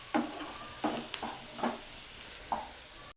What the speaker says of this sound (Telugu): మీడియం ఫ్లేమ్లోనే పెట్టి వేయించుకుంటూ ఉన్నారంటే మధ్య మధ్యలో చక్కగా వేగిపోతుంది